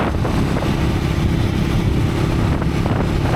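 A Triumph Scrambler 400X motorcycle cruising at about 45 mph on a 45 mph road, engine near 3,800–3,900 RPM, gives a steady, continuous drone mixed with heavy wind rush, with no talking.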